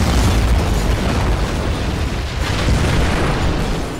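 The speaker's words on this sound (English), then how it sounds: "An explosion." Loud, sustained explosion rumble from a bunker area in a Kamandi: Last Boy on Earth animated story, a dense roaring boom that fills the whole moment with no voices.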